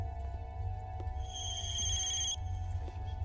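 A telephone rings faintly once, a brief bright electronic burst over a steady low rumble of background noise.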